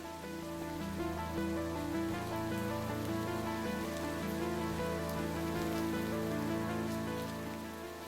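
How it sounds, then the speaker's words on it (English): Steady rain falls continuously in Minecraft over a layered musical backdrop with sustained tones, the patter even and unbroken throughout. "right as it began to rain"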